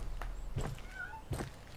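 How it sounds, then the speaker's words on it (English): A cat in a video game gives a couple of short, soft meows amid faint footsteps and low background noise, brief and fairly quiet. "Cat. I heard it."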